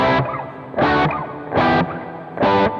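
Guitar through a Jet Pedals Revelation room reverb with the control turned clockwise for longer, more complex trails; four loud strummed chords in steady succession, each tail lingering into the next, no voices.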